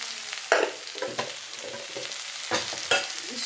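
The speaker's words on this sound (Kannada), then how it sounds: "ಇಷ್ಟು ಹಾಕಿ ಮೇಲೆ ಕೆಳಗಡೆ ಈ ರೀತಿ ಮಿಕ್ಸ್ ಮಾಡೋಣ." A spoon stirs salt and turmeric powder into a hot cooking pan, with soft sizzling underneath and a few louder scraping strokes against the pan at irregular intervals, close and clear without talk.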